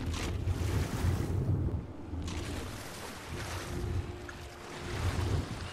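Water sloshes and splashes steadily as a character swims below a waterfall in the ARK video game, a continuous rushing wash that swells and dips with no talking over it.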